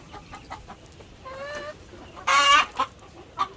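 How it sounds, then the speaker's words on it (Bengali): Tiger breed chickens in a coop with eggs, soft clucks and a few drawn-out calls, then a louder squawking burst near the middle, close by with no talking. "এখানে টাইগার মুরগি আছে"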